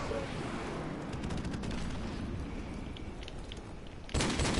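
Video game battle with a continuous roar of rapid gunfire and rumbling explosions from an airstrike, dense and loud throughout, ending in a sharper, louder blast.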